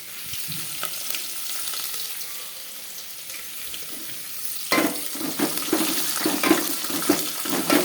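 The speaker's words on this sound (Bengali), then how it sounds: "লাল লাল করে ভাজবো" Chopped onions frying in a pan for mutton kosha give a soft hiss at first, then a sudden louder burst of sizzling and crackling as more goes in, continuing steadily with stirring clatter.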